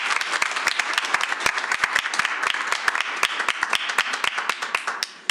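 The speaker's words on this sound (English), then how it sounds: "One more round of applause." A round of applause at a school board meeting honoring teams and staff, dense steady clapping with sharp individual claps standing out throughout, fairly close and continuous, tapering slightly at the end.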